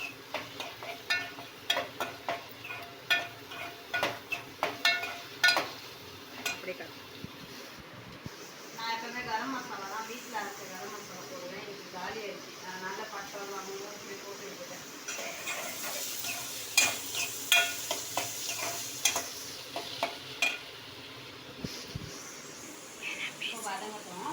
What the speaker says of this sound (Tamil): இதை வதக்கி விட்டுக்கலாம் வெங்காயம் போட்டு வதங்கலாம்